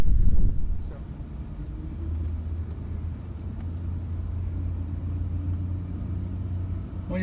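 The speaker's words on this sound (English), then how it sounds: "you can drive backwards up the road if you like" A car reverses up a country road with a low, steady engine rumble and tyre drone, louder at the start and then even and close, while someone speaks over it.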